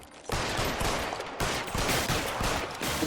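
Rapid gunfire in the L.A. Noire video game, a dense, loud barrage of shots running nearly continuously, with a short break in the middle before the firing resumes.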